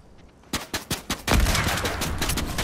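Rapid gunfire in the video game Fortnite: a few separate sharp shots ring out, then a dense, loud burst of continuous firing carries on to the end, with no talking.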